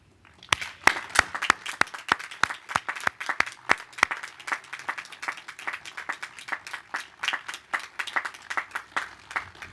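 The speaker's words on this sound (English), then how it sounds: "let's applaud those people who helped you" Commencement audience at Washington and Lee University School of Law applauding, quiet at first, then many distinct claps quickly building into a sustained, moderately loud wave of clapping in a large hall.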